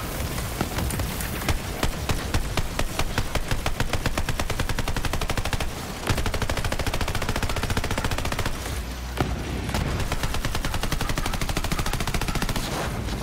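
Rapid automatic gunfire in the shooter video game Borderlands 3 rattles on almost without pause, loud and dense, with a few brief gaps between bursts.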